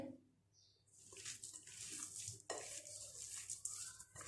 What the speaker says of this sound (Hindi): अब हम इन सब चीज़ों को अच्छी तरह से मिक्स कर लेंगे।